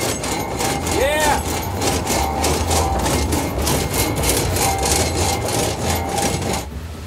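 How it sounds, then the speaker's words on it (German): An old-style sawmill saw cuts through wood with loud, continuous rhythmic rasping strokes over a low mechanical rumble, then stops near the end. "so eine Sägemühle ist ja auch schon ein ganz schön amtlicher Betrieb"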